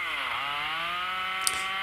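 A cheap Chinese chainsaw cutting hardwood ash logs makes a high, sustained buzzing whine. The pitch dips briefly and then holds steady, with a small sharp tick near the end.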